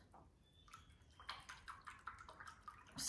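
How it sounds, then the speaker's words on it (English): Watercolour brushes are swished and tapped in a water jar, giving a few close, soft splashes and drips that grow busier toward the end, with no speech. "Wash my brushes."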